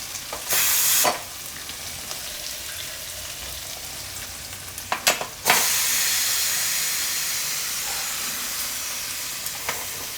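Steam bursts from a pressure cooker of boiled dal as it is opened in a home kitchen: a few short loud hisses, then a long sustained rush of escaping steam that slowly fades, with small clinks in between.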